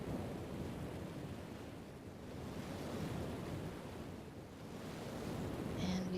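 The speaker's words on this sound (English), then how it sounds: "And we can hear waves, water." Ocean waves in the DS game Zero Escape: 999 roll and wash in a broad, rumbling hiss, swelling and easing gently; a faint tone appears at the end.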